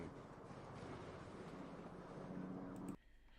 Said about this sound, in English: Waves, beach sounds.